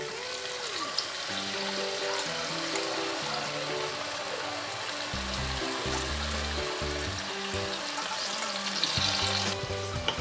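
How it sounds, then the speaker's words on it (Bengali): Marinated rice for sweet saffron pulao tipped into hot oil, giving a steady close sizzle and crackle with scraping and stirring knocks throughout, no talking. "এবার আমি এর মধ্যে ম্যারিনেট করে রাখা চালটা দিয়ে দিলাম"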